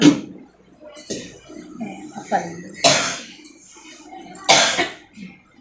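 A few separate coughs ring out, close and sharp, spaced a second or two apart, with quiet low murmuring between them.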